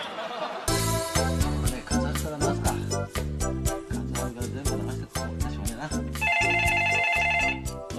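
A telephone rings loudly in a Japanese comedy sketch, with repeated bell-like rings over background music, continuing for several seconds.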